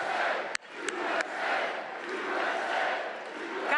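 A large crowd at a Trump political rally in Johnstown, Pennsylvania roars and cheers continuously, a broad sustained wash of voices with a few sharp shouts and claps standing out.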